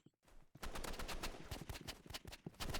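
Gunfire in the Roblox shooter game RIVALS: rapid, loud bursts of repeated shots in a fast, uneven rhythm that runs almost nonstop after a brief quiet start.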